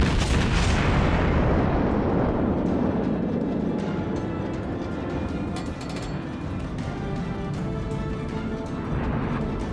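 Naval cannon fire in the World of Warships game, from a New Orleans cruiser facing the Amagi, opens with a heavy booming blast. A dense rumbling roar of battle follows and carries on loudly throughout, with no voices.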